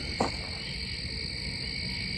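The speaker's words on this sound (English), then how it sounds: "Tree frogs that I'm hearing." Tree frogs call at night near a creek, a continuous high droning chorus from a distance with a single brief nearer sound early on.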